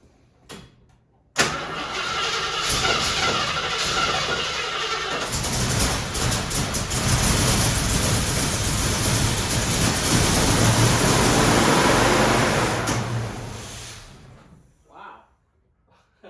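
Car engine cranks and fires after a carburetor rebuild, then revs loudly and steadily for about twelve seconds before dropping away, recorded close with voices around it.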